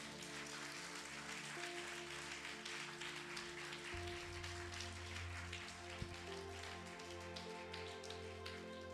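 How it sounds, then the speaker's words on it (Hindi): A church congregation applauding, a dense and steady patter of many hands clapping at a distance, soft and continuous, with a sustained musical drone underneath. "आइए प्रभु के लिए जोर से ताली बजाएंगे।"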